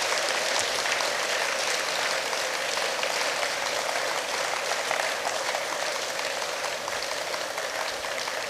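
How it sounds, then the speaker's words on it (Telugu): Audience applause at a Telugu devotional discourse on the Bhagavata, a dense, steady wash of clapping that stays loud and continuous from start to finish. "గట్టిగా చప్పట్లు కొడితే ఆవిడకి ఒకసారి స్వాగతం పలకండి."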